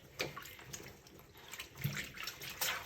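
Water runs into a sink as an equestrian air vest is rinsed, giving a faint, uneven splashing with soft gurgles and small spurts and no talking.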